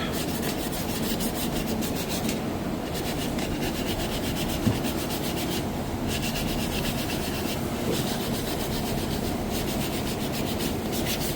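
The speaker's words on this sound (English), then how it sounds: "Sand all that right off." Steady rhythmic sanding on beechwood trim during a kitchen remodel, a close continuous rubbing rasp with short pauses between strokes, with no talk over it.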